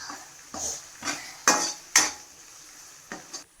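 Tomatoes being sautéed in a pan while cooking chicken dosa, with a soft sizzle under irregular scrapes and taps of a spoon against the pan, about seven distinct strokes, close and moderately quiet.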